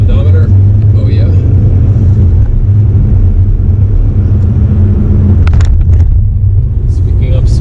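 A 2018 Mercedes E220d AMG coupe diesel accelerating in Sport Plus mode, a loud, steady low engine drone mixed with heavy road and wind rumble from inside the cabin, with a few brief clicks near the end.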